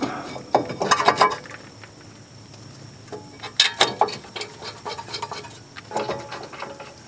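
A ratchet reinstalls the front brake caliper bracket on a 2013-2017 Honda Accord, with several quick bursts of close mechanical clicking and ratcheting separated by short pauses.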